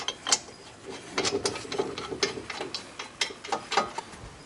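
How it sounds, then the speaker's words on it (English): Bolts are tightened on the brake caliper bracket of a Ford Focus, with the bracket held against the steering knuckle near the rotor. Close, rapid metallic ratcheting clicks run steadily throughout, and no one speaks. "While you're tightening the bolts, try to hold the bracket flat against the steering knuckle so that it doesn't bang against the rotor too much."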